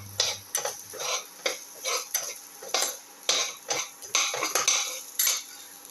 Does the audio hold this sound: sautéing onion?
yes